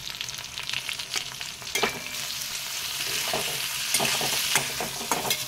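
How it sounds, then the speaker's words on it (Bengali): Capsicum and tomatoes are stir-fried with pointed gourd seeds, sizzling steadily in the pan while a utensil scrapes and clicks through the mix at irregular intervals. No one speaks. "এবার হালকা নাড়াচাড়া করে নেব"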